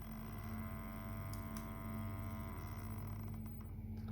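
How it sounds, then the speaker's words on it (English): A Stepper 12 stepper motor on a smart valve drives the valve closed under closed-loop feedback control, giving a steady, quiet mechanical hum with a faint whine and a few soft ticks, alone and without voices. "Now we can see that the stepper is trying to close."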